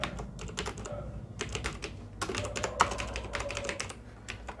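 Typing on a computer keyboard, close and quiet, with quick irregular bursts of key clicks separated by short pauses.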